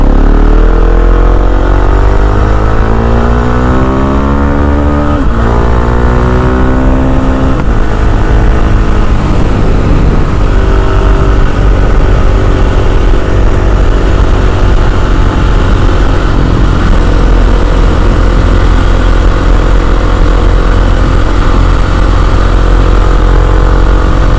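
A KTM 690 SMC R supermoto motorcycle's single-cylinder engine accelerating hard through the gears, loud and close with rising revs, shifts and repeated climbs, then a sustained high-speed drone with wind noise.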